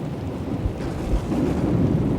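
Steady rain hisses with low, rumbling thunder rolling underneath, a couple of soft thumps rising out of the constant wash of noise.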